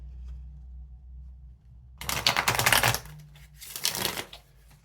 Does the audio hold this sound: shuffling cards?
yes